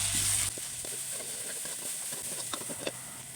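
Thai curry paste sizzles and crackles in a little hot oil, a close, steady frying hiss with scattered pops after an initial louder burst.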